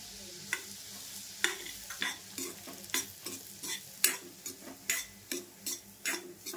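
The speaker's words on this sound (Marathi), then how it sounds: "रवा असा मस्त खरपूस भाजून घ्यायचा सोनेरी कलर येईपर्यंत" Semolina roasting in ghee in a pan for jaggery sheera, stirred steadily with a spoon scraping the pan in regular strokes over a soft sizzle, close and fairly quiet.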